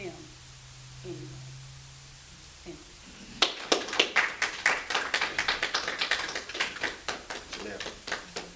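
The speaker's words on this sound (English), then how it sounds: "Let's give her another round of applause." A live audience at a 2018 foundation event breaks into applause after a speaker's talk, starting abruptly partway through with sharp, irregular hand claps that continue steadily, preceded by quieter low background sound.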